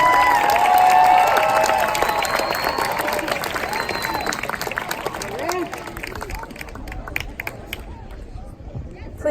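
Audience applause at a middle school class promotion ceremony, a dense sustained clapping from a large crowd that is loudest at first and gradually thins and fades toward the end, with a faint murmur of voices beneath.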